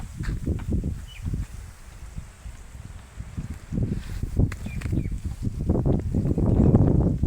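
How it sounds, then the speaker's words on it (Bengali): Strong gusty wind blowing through a garden on a hot day, buffeting and rumbling loudly with rustling leaves, rising in surges and strongest toward the end. "অনেক অনেক বাতাস, দেখছেন বন্ধুরা"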